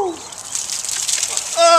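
Cold water pours over a firefighter in a cold-water challenge, a steady splashing gush that ends in a sharp yelp, with bits of voice around it.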